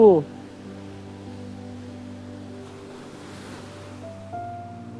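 Ocean surf at a Kozhikode beach washes steadily at moderate level beneath sustained tonal hums, with a brief louder burst at the start and people's voices nearby.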